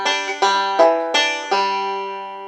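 Banjo fill lick without the 2-to-3 slide, five bright plucked notes in an even rhythm with ringing sustain, close and clear, played alone with no talking.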